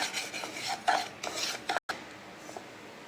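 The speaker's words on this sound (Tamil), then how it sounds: "நல்லா கை பொறுக்கிற சூடு வர வரைக்கும் நல்லா வறுக்கணும்." Semolina (rava) scraped and stirred as it dry-roasts in a pan for rava kesari, giving steady close gritty rasping and scratching strokes with a brief break near the end, no voices.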